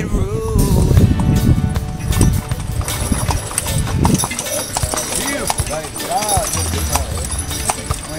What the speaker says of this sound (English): I get to ride the horse now.